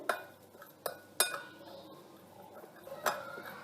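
A spoon mixing chicken cheese roll ingredients with vinegar in a bowl gives a few sharp, close clinks and scrapes against the bowl, spaced irregularly over quiet background.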